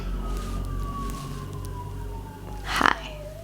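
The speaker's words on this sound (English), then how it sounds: "Of course the sirens are now here." An emergency vehicle siren wails in the distance, its tone slowly falling, under low traffic rumble, with a brief burst of nearby noise near the end.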